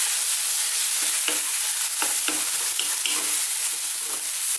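Onions with garlic and ginger paste fry over fairly lively heat, giving a bright, continuous sizzle broken by the scrape and clack of stirring, with no voices.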